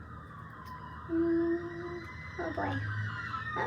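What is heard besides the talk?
emergency vehicle siren passing by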